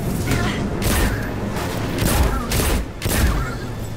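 Loud, close gunfire from the sci-fi shooter Destiny 2, a string of heavy booming shots in uneven bursts over a dense rumbling background, with some mechanical clanks between them.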